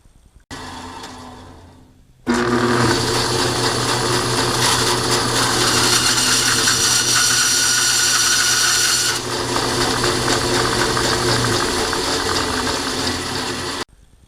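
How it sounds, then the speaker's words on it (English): Bandsaw cutting through a terminal strip, a loud continuous whine and rasp that follows a short motor start-up and runs steadily for about eleven seconds before stopping. "I'll probably leave 4 terminals there and just cut this off on a bandsaw"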